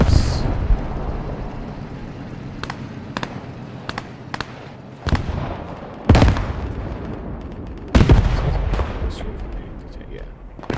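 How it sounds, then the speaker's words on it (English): German aircraft strafing runs in the WWII shooter game Squad 44, a burst of sharp gunfire cracks and booming impacts over a rumbling battlefield, loud and near, with several heavy blasts toward the end and some voices. "German strafes coming in now"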